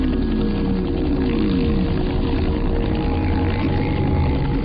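A steady, loud engine drone with rotor throb from two helicopters fills the whole stretch, constant and close, with no voices.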